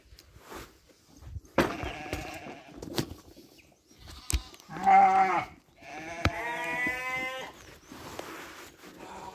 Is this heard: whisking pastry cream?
no